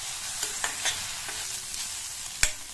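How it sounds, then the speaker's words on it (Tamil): Onions sautéing in a pan for Tamil kuzhambu, with a steady soft sizzle and a few clear spoon-stirring scrapes and knocks, one sharper clack near the end; close and moderately quiet, no talking. "இப்ப வெங்காயத்தை இந்த மாதிரி லைட்டா கலர் மாறுற அளவுக்கு வதக்கிட்டு"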